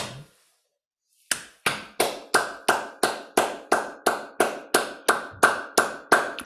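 Steady hand clapping after a brief pause, about a dozen sharp claps at an even rhythm, close and clear with no talking.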